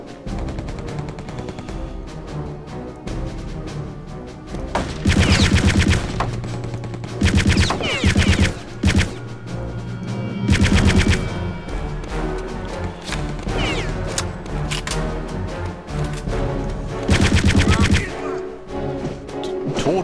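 Gunfire in Return to Castle Wolfenstein comes in repeated loud bursts and single shots over a busy game soundscape, with several heavy volleys spread across the stretch.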